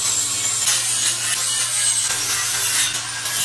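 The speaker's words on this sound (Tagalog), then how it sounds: "nilinis nga lang niya ito gamit nga itong kanyang grinder" An angle grinder cleans a metal tubular stair railing with a steady, harsh abrasive rasp that runs continuously and close up, over a low background hum.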